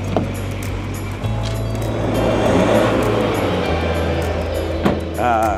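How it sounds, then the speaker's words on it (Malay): A big Ford Ranger Wildtrak pickup with 5-inch dual exhausts idles nearby with a deep, rumbling exhaust drone that swells slightly, steady and loud throughout. "dia tambah lagi exhaust 5 inci 5 inci kiri kanan. Tapi dia punya bunyi memang padu"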